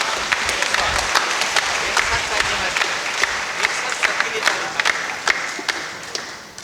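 Audience applause at a Karam Parab 2024 community celebration, steady dense clapping from a crowd sustained throughout, with sharper individual claps standing out near and a faint murmur beneath.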